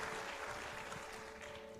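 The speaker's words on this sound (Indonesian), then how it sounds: "Berikan tepuk tangan yang meriah untuk dia." Church congregation giving applause after a sermon call, a dense continuous clatter of many hands heard as a faint, steady wash.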